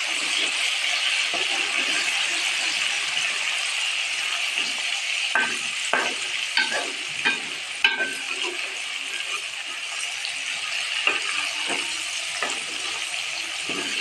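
Garlic ginger paste frying in a pot for aloo gosht, a steady close sizzle with scattered stirring clinks and scrapes throughout.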